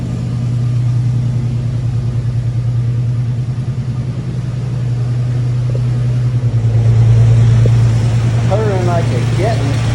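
A barn-find Toyota LandCruiser engine idles after starting, a loud steady low rumble with a slight swell in revs toward the end, close up, with brief voices and a whistle-like sound near the end.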